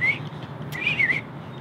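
Person whistling in imitation of a bird, a short high chirp followed by a warbling, wavering phrase, close and clear over a quiet room background.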